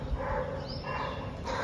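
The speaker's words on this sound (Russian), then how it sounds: "Собачки лают." Dogs barking on a calm morning in Bhilai, India, the barks muffled and distant against a steady outdoor hum, with no voices nearby.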